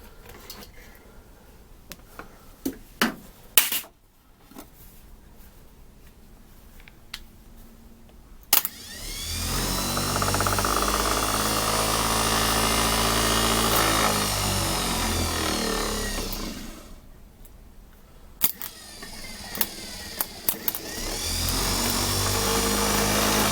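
A Bolens 1050 tube frame starter-generator spins up on a bench power supply, a loud steady electric whir that runs for several seconds, cuts off, then starts again, with clicks and clunks between runs.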